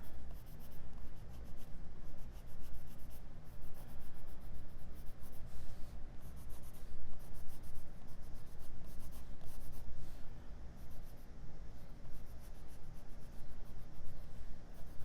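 Colored pencil scratches across paper in close, steady back-and-forth strokes, a dry continuous rubbing that rises and falls with each pass, with no talking.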